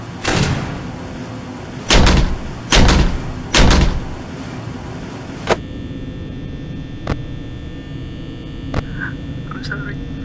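A door bangs shut several times in quick succession, loud and close with sharp slams, then a few lighter knocks and clicks over a steady electrical hum.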